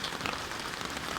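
Rain falling in the Taiwanese jungle, a dense, steady hiss of drops pattering on leaves and surfaces nearby, unbroken, with no talk.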